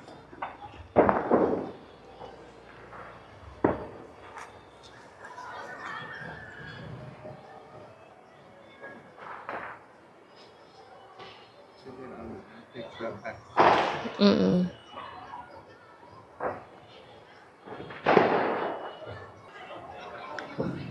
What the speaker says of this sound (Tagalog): May fireworks na.